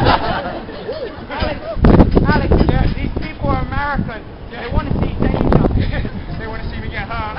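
Wind buffets the microphone in heavy gusts while several people talk and laugh nearby at an outdoor street circus performance.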